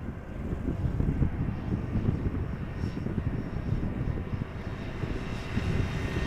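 A Delta Airlines Airbus A330-200 jet arrives at Amsterdam Schiphol Airport, a steady low rumbling roar of engines heard from outside with some wind buffeting, continuous and moderately loud.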